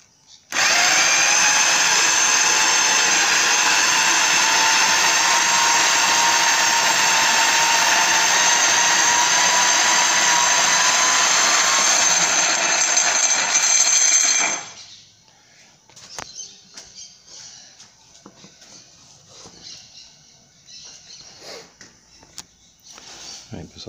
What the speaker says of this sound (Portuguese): esse moinho é perfeito, porque ele moe mais do que o de rolo moe